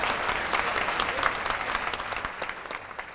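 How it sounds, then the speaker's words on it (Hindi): A crowd applauds at a Hindi comic poetry gathering at Sahitya Aaj Tak 2024, thick continuous clapping with scattered sharper claps, fairly close and even in level throughout, with no voices. "तालियां बज जाए तो देखा जाएगा।"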